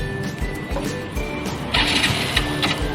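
A Yamaha Mio J automatic scooter with a slipping fault revs under sudden throttle, its engine rising over a low idle and then breaking into a harsher, hissing squeal-like surge partway through, close and loud.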